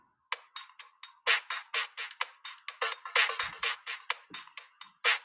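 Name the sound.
top loop pitched up with gate and echo in Ableton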